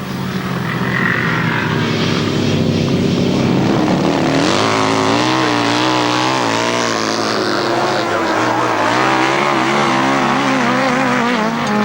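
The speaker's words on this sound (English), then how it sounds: "Flat out of that turn on their Godden V twin." Grasstrack racing motorcycles with Godden V-twin engines at a 1997 meeting, roaring loud and continuous as the engine pitch climbs and wavers flat out through a turn.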